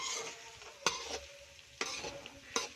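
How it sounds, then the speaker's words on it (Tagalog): Peanuts are stirred in a pan over a wood fire, with a quiet hiss and rustle of the roasting nuts and three sharp scraping knocks of the utensil against the pan. "Luto natin sa kahoy ang mani."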